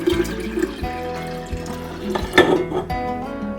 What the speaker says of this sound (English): And then we need 4 cups of warm water.